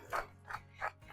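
A hand pepper grinder turns over seasoning for baked chicken wings, making three evenly spaced, gritty ratcheting crunches up close, quiet and with no talk.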